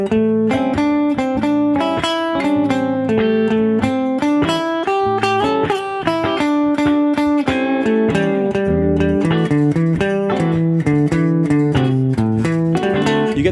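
An electric guitar runs steadily through A blues scale patterns and chord tones. The notes come as a continuous stream that wanders without a clear melody, loud and up close with no talking.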